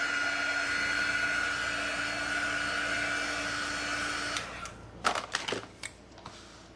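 A hair dryer blows a steady, close whine while drying paint on a drawing, then cuts off, followed by a few sharp clicks and taps of handling.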